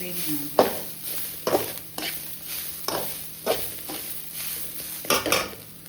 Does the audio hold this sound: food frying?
yes